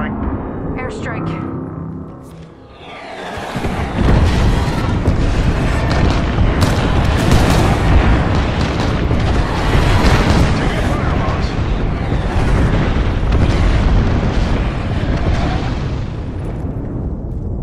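Bangalore's airstrike in Apex Legends lands after a quieter start with gunfire, then a dense, continuous barrage of loud booming explosions rolls on for about fourteen seconds with voices mixed in.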